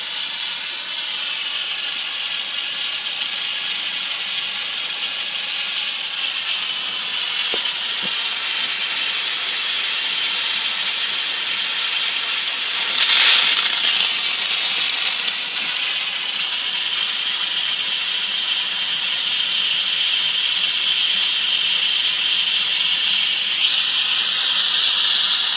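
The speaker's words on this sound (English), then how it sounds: "The steam could be too wet." Steam hissing from a homemade rocket stove steam boiler, a loud, steady, high rushing hiss lasting throughout, with a brief louder surge partway through.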